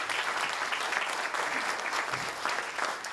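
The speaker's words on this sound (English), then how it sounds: "Let's give them all a round of applause." Audience applause at a chamber of commerce legislative delegation breakfast in Anderson, a sustained dense clapping from a roomful of people, steady and fairly loud throughout.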